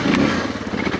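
Suzuki DR650 adventure motorcycle riding narrow single track through woods, a loud steady engine drone close by with rough clattering texture, no voices.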